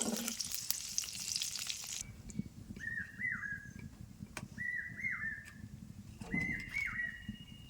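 Panch phoron spices and dry red chilies fry in a hot pan, a steady close crackling sizzle running throughout, loudest at the start and continuing alone under a few short whistle-like tones.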